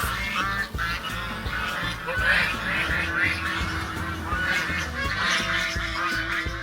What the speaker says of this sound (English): The geese mafia is out in the street, causing a ruckus.